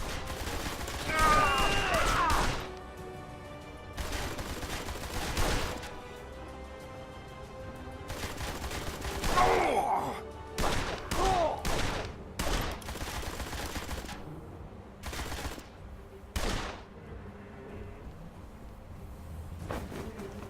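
Gunfire shootout in the Blues and Bullets video game, with bursts of shots and crashing impacts spread through the scene amid music and some talk.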